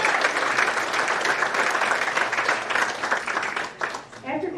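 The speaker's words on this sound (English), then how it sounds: "That deserves a round of applause right there." A crowd applauds at the Haverford High School Sports Hall of Fame 2019 ceremony, a full, sustained roar of clapping for several seconds that thins and tapers near the end.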